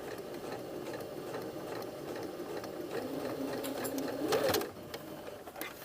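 A sewing machine stitching a patch pocket runs in one steady, continuous whir, close and fairly loud, and briefly grows louder toward the end before settling back.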